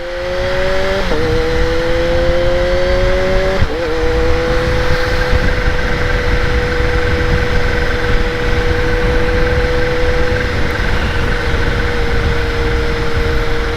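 A Kawasaki ZH2 sport motorcycle engine drones at speed, its pitch climbing and dropping with gear changes early on, then holding a steady whine over rushing wind.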